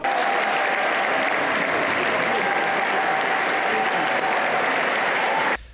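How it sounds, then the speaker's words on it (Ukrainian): A large crowd of basketball fans applauds loudly and steadily, a dense wash of clapping that holds evenly throughout before cutting off at the very end. "Гучними оплесками вони дякують команді за сезон."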